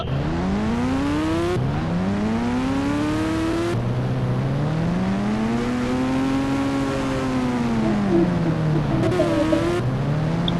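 A motorbike engine revs steadily, its pitch swelling and dipping in long sweeps, with a few abrupt cuts. No voices.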